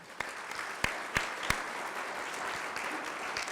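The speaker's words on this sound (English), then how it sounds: "A round of applause for them." Steady applause from an audience at a college athletics press conference, a dense wash of clapping with a few sharper, louder claps standing out, with no talk over it.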